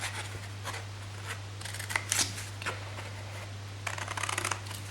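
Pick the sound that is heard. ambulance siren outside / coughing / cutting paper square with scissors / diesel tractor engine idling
cutting paper square with scissors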